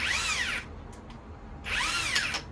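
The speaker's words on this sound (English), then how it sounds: "Now it's in max level, in screw, in drill mode" An electric screwdriver set to drill mode at maximum level whirs in two short bursts, its motor pitch rising and falling, with a brief pause between runs.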